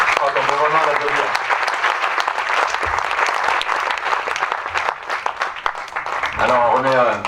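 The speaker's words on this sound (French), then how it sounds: "On peut vraiment l'applaudir." Audience applause at a town reception honouring deserving sportspeople, sustained clapping from a crowd filling the room, with a voice speaking over it at the start and end.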